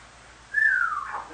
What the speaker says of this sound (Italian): Chi è che fischia?